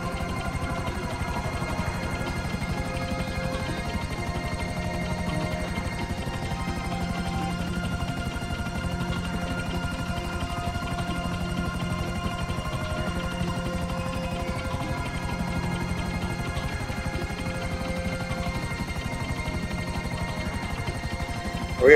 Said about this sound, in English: Danny, you better not fly right into that helicopter.